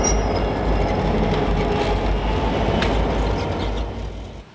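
An Alaska Railroad train near Seward rolls along the rails with a loud, steady rumble and a thin wheel squeal, close by, easing slightly toward the end.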